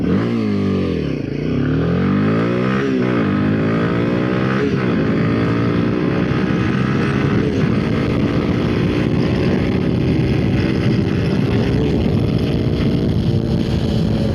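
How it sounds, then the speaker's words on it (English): A 2026 Royal Enfield Himalayan motorcycle accelerates hard through the gears, its engine note climbing repeatedly with brief dips at the shifts, loud and close with wind rushing past the microphone. "Let's do an acceleration test."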